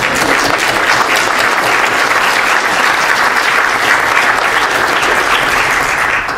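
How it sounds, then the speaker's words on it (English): Audience applause at an Alaska State Senate candidate forum for everyone who attended, a loud, steady roar of many hands clapping sustained evenly for several seconds. "how about a round of applause for each and every person who came here"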